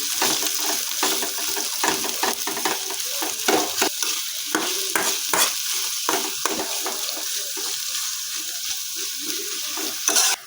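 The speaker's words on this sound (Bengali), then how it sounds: "তেলের মধ্যে পেঁয়াজটাকে ভালো করে মিশিয়ে ভেজে নিচ্ছি" Chopped onions sizzle and fry in hot oil, with a steady crackle under repeated scraping stirs of a spatula across the pan.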